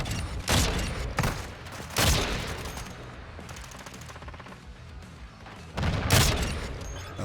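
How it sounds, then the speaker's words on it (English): Gunfire from a weapon in Call of Duty MW3, loud overlapping bursts in several separate volleys with a steady game backdrop between them. "why does my gun sound like the OG MW2?"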